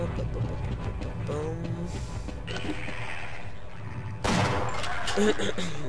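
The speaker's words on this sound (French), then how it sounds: "Le fusil à pompe, quoi de mieux dans Half-Life?" Shotgun blasts in the video game Half-Life, loud bursts over a busy layer of game noise and effects, with a heavier blast near the end.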